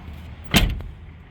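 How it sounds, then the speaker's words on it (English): A Chevy S10 pickup truck door with a fiddly latch opens in one short mechanical clunk and rattle, heard close up against faint background hiss. "Door opens."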